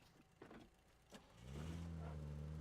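A few soft clicks, then a car engine starts up and settles into a steady, loud droning hum that carries to the end.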